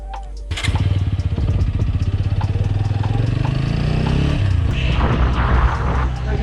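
A TVS Apache 200 4V motorcycle cranks on its electric self-starter, fires up with a sharp burst, and settles into a loud, close, throbbing idle with rapid pulsing exhaust beats and some revving near the end.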